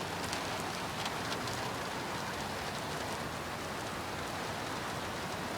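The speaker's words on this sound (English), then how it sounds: "There goes some hard rain." Hard rain hammers down in a severe thunderstorm in Rancho Cordova, California, an even, dense roar of drops on surfaces that holds steady throughout with no voices.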